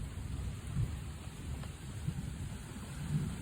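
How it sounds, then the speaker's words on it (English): Severe thunderstorm heard from indoors by a window, steady heavy rain hiss with low rumbling thunder throughout, no talking. "Today I'm going to be looking at a severe thunderstorm that is right outside my window."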